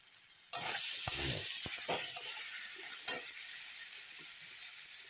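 Spice paste with turmeric and salt fries in a pan with a steady sizzle, broken by a few sharp stirring clinks and scrapes of a utensil, no voices.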